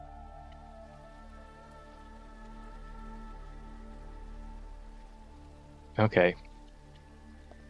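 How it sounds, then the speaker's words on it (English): Soft rain patters steadily on a rainy morning in Belfast within a video game, faint under a low steady hum, and a short spoken word cuts in near the end. "Let's quickly change it to a nice rainy day. A rainy morning in Belfast."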